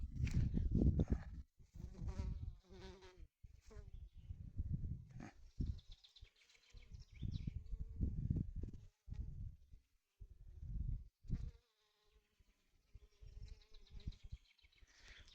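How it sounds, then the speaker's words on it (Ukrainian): A bee buzzes close by in uneven bursts, rising and fading as it moves between fireweed flowers, with quiet gaps in between. "Бджола прям працює сильно на Іванчаї."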